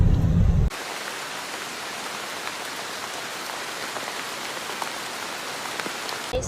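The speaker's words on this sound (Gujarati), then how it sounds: "વરસાદ જોવો ફૂલે ફૂલ." Heavy rain falling at a resort near Sasan Gir, a steady broadband hiss of drops on surfaces that runs unbroken after a brief louder rumble at the start, with scattered distinct drips.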